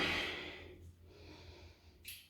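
A person holding a yoga pose breathes slowly, starting with one long, close exhale through the nose followed by softer, quieter breaths, with no speech.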